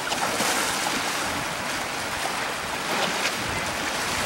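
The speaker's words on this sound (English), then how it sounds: "just the power of all these waves" Waves crash against broken concrete chunks along a shore, a steady, close, roaring wash with gusty wind buffeting the microphone throughout.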